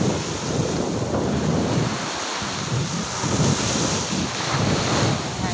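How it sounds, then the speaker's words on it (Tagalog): Sea waves surge and wash ashore under strong wind buffeting the microphone, a loud, continuous roar with rolling swells and no talk. "Kita nyo ba guys yung alon?"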